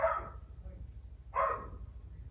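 A dog in a backyard barks twice, well spaced, sounding fairly distant and faint over a low steady hum.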